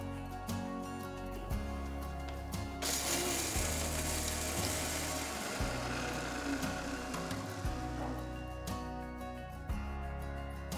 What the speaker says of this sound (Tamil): மிக்சர் ஜாரில் வறுத்த மசாலா போட்டு அரைங்க.